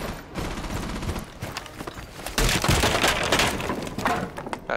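Gunfire in Rainbow Six Siege: scattered cracking shots and bursts, fairly close and loud, with sharper rapid fire and impact crackle building in the second half.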